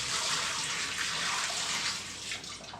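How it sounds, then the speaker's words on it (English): Two litres of water pour steadily into a bowl for pizza dough, a continuous close splashing rush that lasts throughout and tapers slightly near the end. "I got 2 kilos of water, 2 liters. I'm going to throw that in there."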